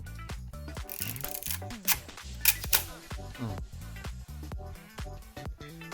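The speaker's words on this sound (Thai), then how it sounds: "ผมลองเทสชัตเตอร์ดู อ่ะชัตเตอร์ทำงาน" A Konica Auto Reflex P film camera being tested before repair, its shutter fired several times in a row, giving sharp mechanical clicks and snaps close up with handling noises between them.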